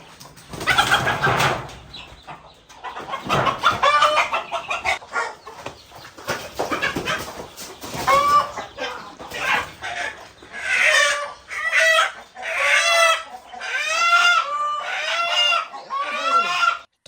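Tiger-breed chickens and roosters cluck and squawk repeatedly at close range, a rooster-like call rising near the end, with some rustling and a faint voice early on.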